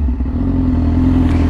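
A Yamaha R6 motorcycle with a loud aftermarket exhaust holds a brief, very loud, close rev, a steady rasping engine drone with a strong tonal whine.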